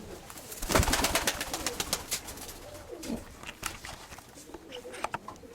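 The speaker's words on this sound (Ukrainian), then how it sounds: "Голуб мій, голубка Сергія Івановича" Pigeons nearby, with fluttering wing claps and soft cooing sounds, bursts of flapping scattered through the clip.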